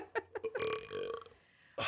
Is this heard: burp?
yes